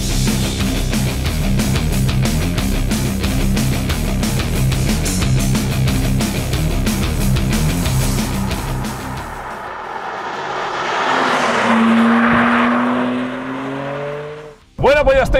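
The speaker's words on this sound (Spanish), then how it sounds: "vamos a escuchar un poco el motor" A 2024 BMW M2 with a six-cylinder engine and manual gearbox idles loudly and steadily, then a rising rev blips and settles, ending with a sharp burst.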